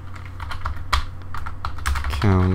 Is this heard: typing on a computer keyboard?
yes